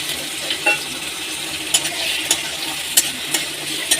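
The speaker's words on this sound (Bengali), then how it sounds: "আলুটা যতক্ষণ লাল লাল না হচ্ছে ততক্ষণ আলুটাকে ভেজে যেতে হবে" Small diced potato pieces fry in oil in a pan, a continuous close sizzle with scattered clinks of a spoon stirring.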